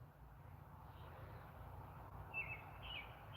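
An American robin singing outdoors in a front yard, faint distant chirps and short phrases over a low steady rumble of background noise.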